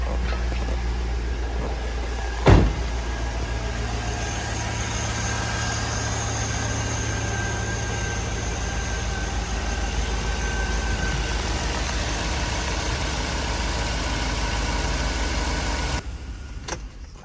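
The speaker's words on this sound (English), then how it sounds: "Compressor's on." An air compressor runs with a steady, fairly loud mechanical hum. A sharp knock comes early, and the hum cuts off near the end. No one talks.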